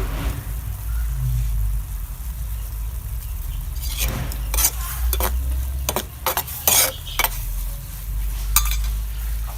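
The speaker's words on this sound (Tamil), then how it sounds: "கிளறி விட்டு மூடி வைக்கவும்." Chili thokku with tamarind water and salt being stirred in a pan, a low sizzle followed by a series of sharp scraping and clinking stirs near the end, close and moderately loud, without speech.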